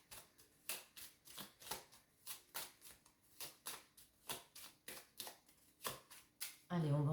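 Tarot cards being shuffled by hand, a steady run of crisp riffling bursts repeating roughly every half second, close and fairly quiet, with a brief louder sound at the very end.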